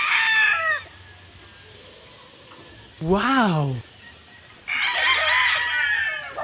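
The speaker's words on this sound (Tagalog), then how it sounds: "tingnan nyo ang iba't ibang klase ng manok" A rooster on a farm with many kinds of chickens lets out a loud, close crow midway, with bursts of clucking before and after and a person exclaiming briefly.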